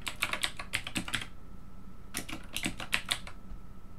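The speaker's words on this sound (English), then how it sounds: "I just start typing in" Rapid bursts of computer keyboard typing while entering a name into a search field, two clusters of quick keystrokes separated by a short pause, close and clear with no talk.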